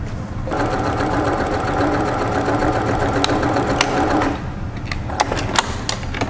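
A sewing machine stitches the front and back pieces of a twisted-style shirt together with a continuous rapid whir. A few sharp clicks and handling knocks follow as it stops.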